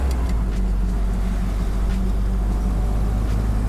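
A 1946 Willys car cruises along in third gear, its engine a steady, loud low drone with road rumble and faint rattles throughout, no talking.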